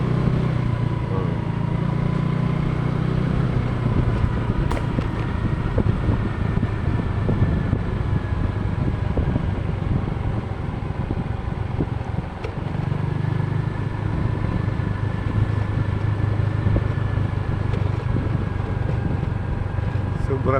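Motorcycle riding along a wide, clean farm road, its engine a steady close drone for about twenty seconds with wind buffeting the microphone and a voice talking over it.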